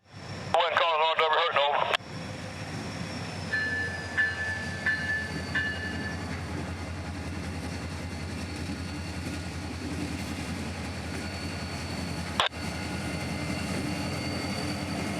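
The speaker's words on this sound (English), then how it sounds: "Today's 91 would also have a couple of goodies, with 2 P-42s leading today's train" Amtrak train 91 headed by two P-42 locomotives, one in the Phase 3 Pepsi-can paint as number 160, rolling past steadily and loudly at close range, with a brief horn-like burst early and a sharp clank near the end.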